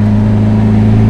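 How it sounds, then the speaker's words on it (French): A Lamborghini engine at a classic car gathering in Maule idles with a steady, deep, loud rumble, close by and without voices. "Ah, le moteur qui n'en finit pas de ronfler."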